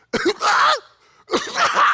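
A voices a painful cough, two harsh throaty bursts with a short gap between them, close and loud, imitating his gravely ill wife's racking cough.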